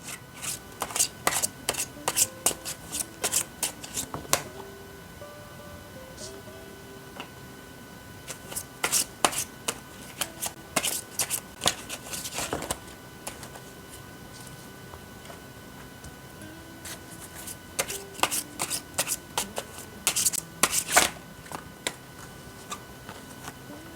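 Tarot cards are shuffled by hand close to the microphone in several bursts of rapid riffling and flicking, separated by quieter pauses and faint tapping.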